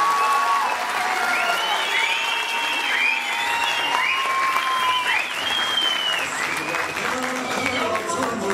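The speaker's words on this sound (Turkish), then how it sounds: "kuvvetli alkış istiyorum" Audience at a school show at an Anatolian religious high school claps in sustained loud applause, a dense even patter with a few cheers on top, lasting throughout.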